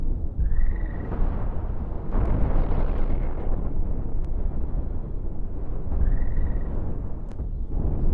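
Missiles fire and explode nonstop in the space-combat game Cosmoteer, a loud, dense rumble of overlapping blasts and bursts with occasional rising whistles and no pause in the barrage.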